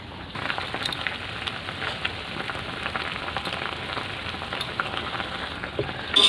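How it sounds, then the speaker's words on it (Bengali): Raw bananas simmer in water in a pan, giving a steady close bubbling and hissing crackle that runs evenly throughout; no voices. "তো অল্প একটু সিদ্ধ করে নেবো।"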